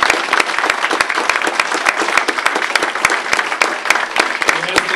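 Sustained applause from an audience at a hockey history event, a dense, even roar of many hands clapping with sharp individual claps standing out and faint voices underneath.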